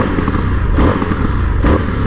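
A 2021 Indian FTR 1200 Rally motorcycle rumbles loud and close while being ridden, a steady low engine drone with slight surges, and no talking.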